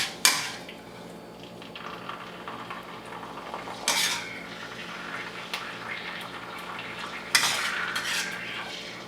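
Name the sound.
stirring Kung Pao chicken in a pan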